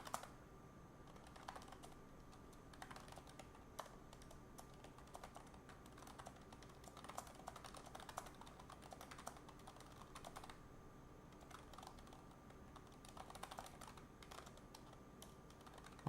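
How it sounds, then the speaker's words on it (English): Continuous typing on a computer keyboard during a Daytona 24 Hours testing-day session, soft and mellow with steady irregular clicks throughout, fairly quiet and with no talk. "this keyboard sounds kind of nice on the chat. It sounds very mellow."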